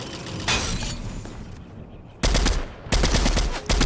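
Gunfire in Fortnite from a weapon with noticeable kick, heard as a few separate loud, sharp bursts of rapid shots with quieter game ambience between them.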